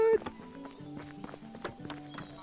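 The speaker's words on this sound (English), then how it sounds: "I heard a horse" A horse in the video game Medieval Dynasty, its hooves clip-clopping in an uneven quick rhythm at moderate distance, blended with game music and ambient sound.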